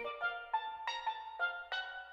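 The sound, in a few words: Caribbean steel drums stock sound in Logic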